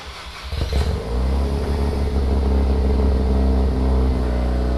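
A Mazda RX-7 rotary engine cranks briefly, then catches and settles into a loud, steady, rumbling idle that continues throughout.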